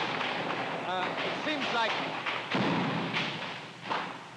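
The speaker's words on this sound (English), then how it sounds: "This gunfire that you can hear is pretty close. It's coming in above our heads." Close gunfire passing overhead during a night firefight in a city in 1968 Vietnam, heard as a few sharp, heavy reports and thuds under a man's ongoing speech.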